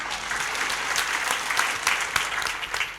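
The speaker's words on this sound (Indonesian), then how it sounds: "Tepuk tangan saudara" A church congregation applauds steadily during a sermon, giving a dense, even wash of many hands clapping with a few louder claps rising out of it, heard alone.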